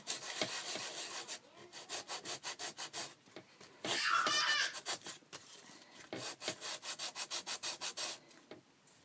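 Sanding a cork charm, with rapid rhythmic back-and-forth rubbing strokes in steady runs, one louder, denser scraping burst in the middle, close and fairly quiet, no talking.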